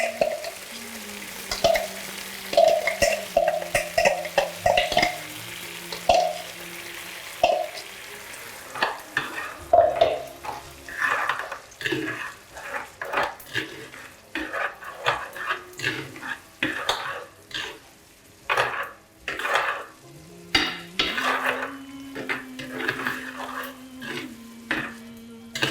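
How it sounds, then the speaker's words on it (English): Chermoula paste sizzles and fries with tomatoes and onions in a pan, with repeated stirring scrapes and clatters of a utensil against the pan, and a voice briefly heard at times. "you're going to add in the chamula paste that you've marinated the fish in, to the tomatoes and the onions."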